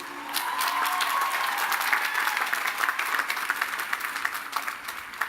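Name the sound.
ceremony applause for graduates' families and friends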